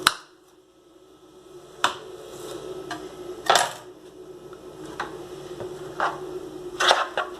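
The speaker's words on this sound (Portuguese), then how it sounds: "Vou cortar esse dente de alho que tá bem grande, vou cortar assim em 4 pedaços grandes" A kitchen knife slicing a large garlic clove into four big pieces on a board, several sharp separate chops and taps spaced a second or so apart, close and clear over a quiet kitchen room tone.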